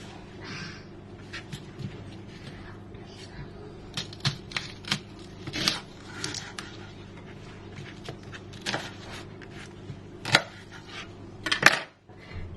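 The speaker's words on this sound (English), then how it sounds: "So first, let's cut the red onion first." A knife chopping a red onion on a cutting board, with irregular crisp taps and knocks close by, louder clusters in the second half and no talk.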